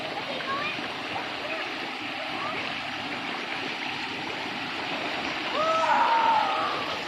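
Steady rushing of a mountain waterfall and stream at Wat Kao, a constant broad wash of water noise, with voices and a brief shout breaking in near the end.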